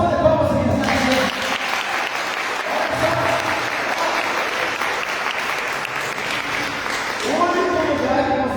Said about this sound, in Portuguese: Uma salva de palmas para esse risada.